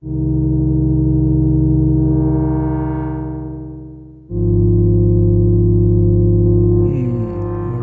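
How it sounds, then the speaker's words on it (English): A loud, sustained Moog Matriarch synthesizer sine tone, swelling and fading, then restarting at a new pitch with delay-effect echoes trailing behind. "Let's add in some delay just to thicken it up."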